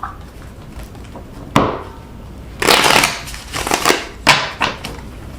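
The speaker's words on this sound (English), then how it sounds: "All right, so I shuffled the cards, picked out the houses that you want right here." Tarot cards are shuffled by hand in bursts of riffling and rustling, with a sharp snap near the start and several scraping flurries after, close and fairly loud with no talking.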